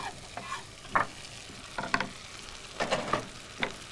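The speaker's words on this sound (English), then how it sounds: "And just stir the onion round" Finely chopped Spanish onion stirred in a hot pan, with a soft sizzle under scattered scrapes and clinks of the spoon coming in short bursts, close and fairly quiet.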